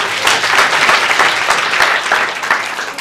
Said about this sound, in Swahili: Pigani makofi bwana.